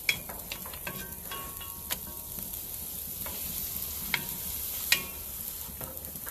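Butter and finely minced onions sizzling in a pan as a roux base for smoked mac and cheese, a steady close frying hiss with occasional sharp pops and utensil taps.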